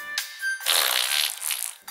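A wallet gives off a cartoon fart sound effect, one loud close raspy blast about a second long, preceded by brief squeaky puffs and ending in a short sputter, heard alone.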